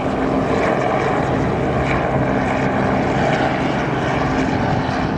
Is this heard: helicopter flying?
yes